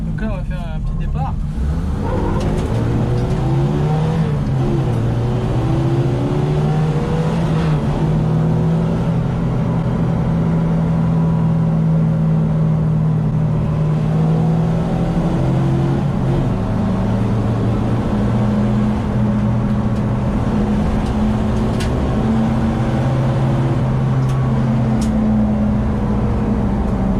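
A Renault 20 Dakar replica rally car pulls away from a standstill, its engine droning loud and steady while rising and shifting through gears, continuing throughout as someone talks over it.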